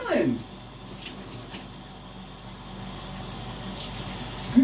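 Water from a shower runs steadily under the whole stretch, a continuous hiss with a brief louder splash at the start and near the end.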